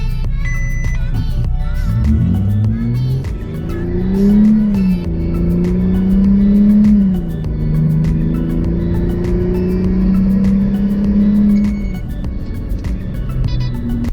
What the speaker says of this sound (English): Remember, no brake boosting, just hit the throttle and go.